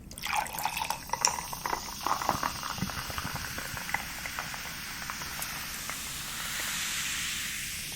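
Grapefruit sparkling water fizzes steadily in a faint, continuous hiss of popping bubbles. Small crackles and drips cluster near the start, and the fizz swells softly toward the end. No voices are heard.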